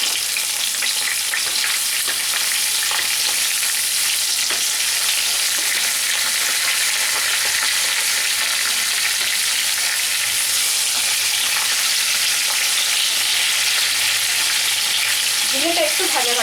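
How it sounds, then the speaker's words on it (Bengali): Sliced ridge gourd fries in hot oil with cinnamon and cloves in a pan, a constant loud sizzle with occasional scraping stirs throughout. "ঝিঙেটা একটু ভাজা ভাজা করব।"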